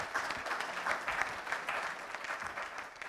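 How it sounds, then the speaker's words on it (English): A conference audience at a plenary session applauds the presentations, a brief burst of steady, moderately faint clapping from a roomful of people that tapers slightly at the end. "please join with me for giving a big applaud for the all presentation."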